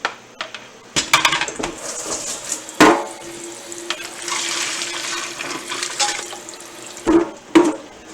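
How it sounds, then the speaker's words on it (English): Pasta cooking water being drained into a kitchen sink, with splashing water and hollow metallic clanks and knocks from the pot and sink scattered through the pour. "I'm going to drain that water"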